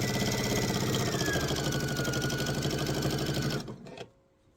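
A sewing machine stitches a laptop sleeve in a steady, loud, fast mechanical whir that runs continuously, then stops abruptly near the end, leaving a brief quiet tail.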